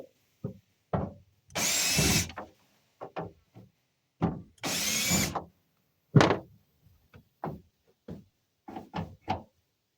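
A power drill works on the tailgate handle bolts of a Nissan Frontier, with two sustained whirring bursts, each about a second long, set among scattered knocks and clicks of handling.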